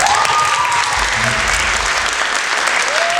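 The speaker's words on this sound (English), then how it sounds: "So again, just one more round of applause for Ms." Audience applause at a school band and chorus spring concert, steady dense clapping from a full room with faint voices and brief tones over it.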